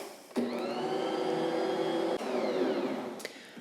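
A stand mixer kneads cinnamon roll dough with a steady, loud motor whir, briefly dipping mid-run and ending with a short knock.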